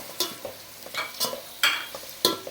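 A spoon scrapes and stirs tomato, coriander, mint and green chili sautéing with onions in a pan, giving several distinct scraping strokes with a soft sizzle underneath, close and fairly quiet, no voices.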